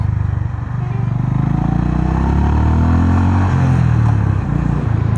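A 2025 Honda CB350RS motorcycle engine thrums steadily while riding, a loud, continuous low drone with shifting harmonics as revs rise and fall, heard up close without talk.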